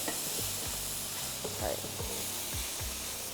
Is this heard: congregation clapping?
no